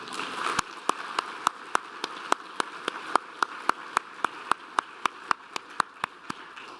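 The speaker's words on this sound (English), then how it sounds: "a big round of applause for you, the CCLCM class of 2026" Steady, evenly spaced claps ring out at a medical college graduation celebration for a class of 2026, a sharp regular beat of roughly four claps per second, fairly close and alone with no talk.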